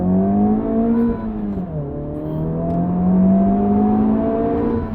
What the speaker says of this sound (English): It's the charisma of this engine, and it's not the most exciting to listen to